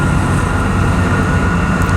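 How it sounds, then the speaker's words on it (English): A train passes nearby on a railroad with a loud, steady, broadband rumble and rolling noise that holds constant throughout with no voices. "No, because the train has to go through right now."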